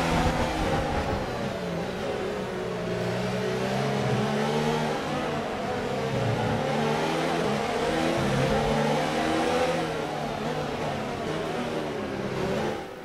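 Formula 1 race cars in the F1 2019 video game, including a McLaren and a Ferrari-engined Haas, scream steadily with layered engine whine and shifting pitch as they jostle and overtake, loud and continuous with no talk.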